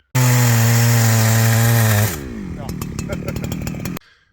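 A Farmertec 288 chainsaw roars loudly for about two seconds, then winds down into clattering, rattling mechanical noise before cutting off.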